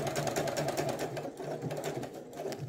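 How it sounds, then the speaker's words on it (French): Sewing machine stitching around a trouser pocket, a fast steady rhythmic mechanical whir heard close and continuous throughout, with no speech. "avec le petit guide ici, le bout du pied, je peux suivre vraiment très facilement le contour de ma poche pour faire une piqûre bien droite"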